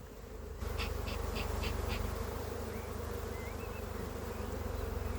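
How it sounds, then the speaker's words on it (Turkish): A dense, steady buzz of many honey bees at close range, continuous throughout, with a few faint higher chirps in the background. "kıştan arı tertemiz çıkmış bakın"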